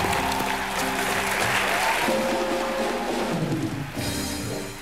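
A studio audience at a televised comedy show applauds with dense, sustained clapping that stays loud throughout, with steady musical tones running underneath before fading slightly at the end.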